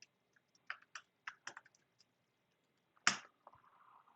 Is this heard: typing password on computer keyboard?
yes